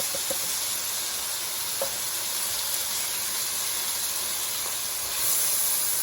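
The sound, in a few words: zucchini and canned corn sizzling in pan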